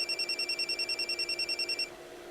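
A phone rings in a steady pulsing electronic pattern, about fifteen quick repeated tones over two seconds, clear and close, then stops abruptly with no talking.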